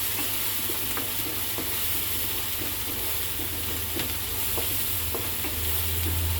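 A pan of egg curry with green chillies sizzles steadily while chili powder is stirred in, with soft scraping strokes and small clicks from the spoon over a constant hot hiss and no talking.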